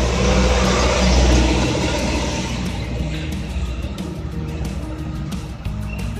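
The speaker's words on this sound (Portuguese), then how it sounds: "O carro já dá partida." Car engine turned over by a remote-start alarm and left idling, a steady low rumble that settles from a louder start into an even idle with no talk over it.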